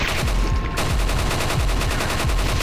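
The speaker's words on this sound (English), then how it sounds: "Oh, there's another guy with a machine gun." Rapid machine gun fire in the Resident Evil 4 VR video game, loud, close and evenly rhythmic, a fast stream of shots filling the whole stretch.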